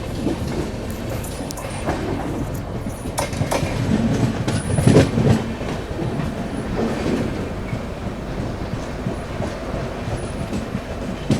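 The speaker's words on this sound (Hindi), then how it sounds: "नवजीवन एक्सप्रेस।" Navjivan Express running from Ahmedabad to Chennai Central rolls past close by, a steady loud rumble of wagons with rhythmic wheel clatter and brief squeals throughout.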